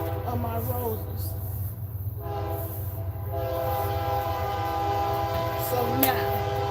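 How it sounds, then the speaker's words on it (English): A train rolls past some distance off, its horn sounding in long held blasts over the rumble of the cars, heard from an outdoor garden. "life wouldn't be right without the train in the background"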